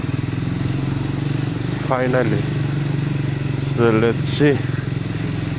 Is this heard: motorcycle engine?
yes